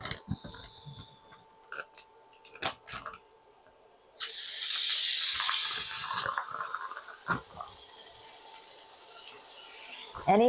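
Pork chops fresh from a sous vide bath hit hot olive oil in a pan, bursting into a loud, steady sizzle that runs on for several seconds and then eases to a softer crackle with occasional clatter.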